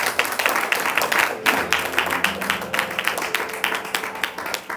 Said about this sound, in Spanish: ¿Por qué no le da un fuerte aplauso?